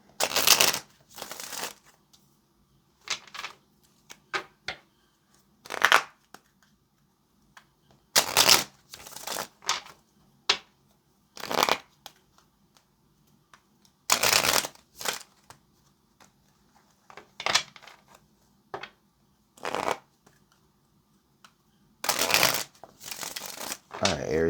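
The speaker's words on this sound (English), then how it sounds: "let's get one more shuffle" Tarot cards being shuffled, with repeated crisp riffle bursts of about a second each, separated by short quiet gaps, close and clear with no talking.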